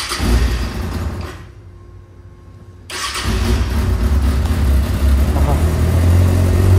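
A Kawasaki ZX-6R motorcycle engine cranks and fires for its first start, catches after a short pause, then settles into a loud, steady idle with brief revs, close by, with a voice speaking briefly over it.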